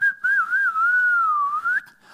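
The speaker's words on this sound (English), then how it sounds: "I can do a quick whistle." A person whistles into an iPad microphone: one sustained, wavering melodic whistle lasting about two seconds, with a brief break near the start, loud and close with no talk.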